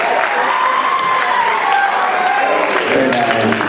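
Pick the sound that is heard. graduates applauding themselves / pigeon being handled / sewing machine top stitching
graduates applauding themselves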